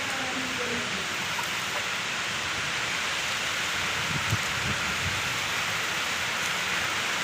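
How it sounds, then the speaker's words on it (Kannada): Rain and gusting wind in a dark outdoor setting make a steady, even hiss that continues without a break and with no voices over it. "ಗಾಳಿ ಮಳೆ ಬರ್ತಿದೆ."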